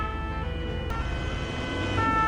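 An ambulance siren wails steadily at moderate loudness, its tonal pitch sustained over a low rumble of traffic, with a brief sharp click partway through.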